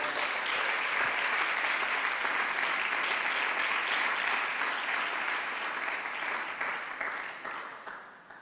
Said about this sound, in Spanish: Denle un aplauso al Señor esta noche